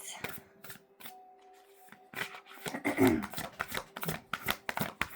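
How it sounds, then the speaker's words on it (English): Tarot cards are riffled and shuffled in quick, crisp bursts of flapping and snapping, close up, with faint background hum. "And shuffle"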